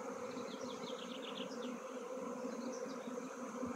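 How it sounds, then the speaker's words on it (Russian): A small honeybee swarm that has moved from one hive into a neighbouring one gives a dense, continuous buzzing drone, with individual bees zipping past close by while the rest fan their wings at the hive entrance. "Пчелы роинулись из этого улья и перелетели вот сюда."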